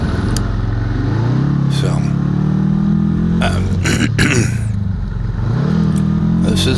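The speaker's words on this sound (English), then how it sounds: "Not too many people are riding antique Hondas around." An antique Honda motorcycle ridden along a coastal road, its engine droning and rising as it revs and shifts, loud and close with steady wind rush throughout and a brief word from the rider.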